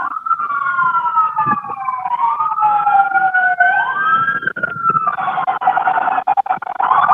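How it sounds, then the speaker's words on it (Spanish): Ambulance sirens wailing and sweeping up and down in pitch, loud and close, with overlapping tones from more than one vehicle and road traffic noise underneath. "Juan, Juan, te estamos escuchando las ambulancias."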